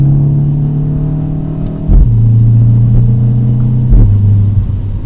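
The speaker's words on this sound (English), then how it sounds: "Man, those gear shifts are crisp." A 2025 Mini Cooper JCW engine hums steadily from inside the cabin, broken by two crisp paddle-shifted gear changes, each a sharp drop in pitch with a short thump before the drone settles again.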